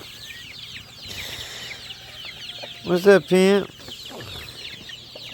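Farm chickens cluck and a rooster gives a loud, close burst of calls over faint background bird chatter, with a voice speaking briefly.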